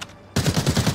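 Shotgun fire in the video game Arena Breakout: a quiet lull, then a loud burst of rapid, evenly spaced blasts rattling close by, with no voices over it.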